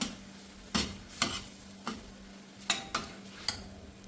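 Cooked jeerakasala rice with egg being sautéed in a pan for Kerala egg rice, with a low sizzle and a spatula scraping and stirring in several distinct strokes, close and moderately loud, no talking.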